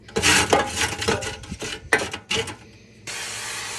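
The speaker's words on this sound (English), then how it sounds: "Oop, I meant to spray that first." Several short hissing sprays of cooking oil spray in quick bursts, mixed with light rubbing and clatter, ending in a steady hiss.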